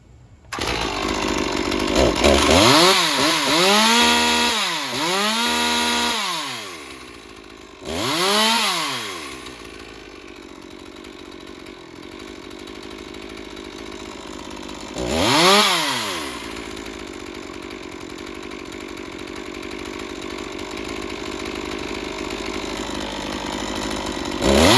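Stihl MS201tc chainsaw engine with an unresolved carburetor fault, loud throttle revving in several rising and falling bursts before dropping to a rough, steady idle, near and alone.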